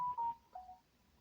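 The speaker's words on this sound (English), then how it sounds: "getting the notification bells. I'm going to move this phone." A phone chimes with two or three short, faint electronic notification tones in quick succession, then falls quiet.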